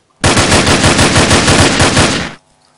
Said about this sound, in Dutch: Kun je het al horen als ik schiet?